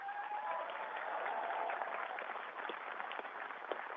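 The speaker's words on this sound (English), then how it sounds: "And maybe a round of applause for Tim, please." Science festival audience applauding a British astronaut: a steady, even wash of clapping from a sizeable crowd, moderately distant, holding for several seconds with a few sharper individual claps near the end.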